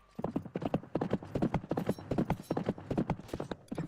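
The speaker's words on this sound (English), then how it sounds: "Kenshin got a horse." Horse hooves clip-clop in a Final Fantasy XI game scene, a quick, even run of sharp hoofbeats close up that continues steadily throughout.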